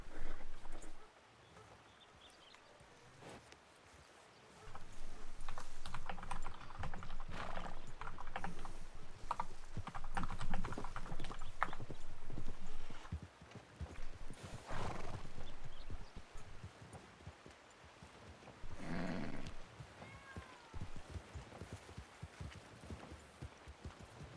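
Horses in the Red Dead Redemption 2 video game, with rhythmic hoof clip-clops on a town street, occasional neighs, and intermittent keyboard tapping, moderately loud in bursts with quieter gaps.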